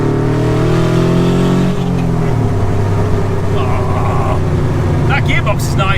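A 170 hp Subaru-engined Fiat 500 accelerates in a straight line with a loud, close engine drone inside the cabin that shifts down in pitch partway through, while a voice talks over it.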